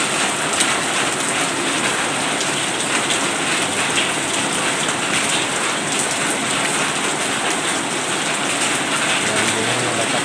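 Heavy rain pours steadily, a dense, continuous hiss of drops hitting surfaces close by, with no pauses.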